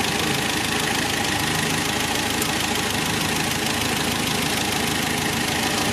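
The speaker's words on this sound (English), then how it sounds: "we just want to listen to the engine" A 1961 MG A engine idles steadily with a dense, continuous rumble and faint knocking texture, heard up close and unchanging throughout.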